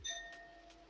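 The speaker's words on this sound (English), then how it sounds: "That was my doorbell." A single faint electronic doorbell chime, a few tonal notes ringing and fading quickly, heard distant and low in volume.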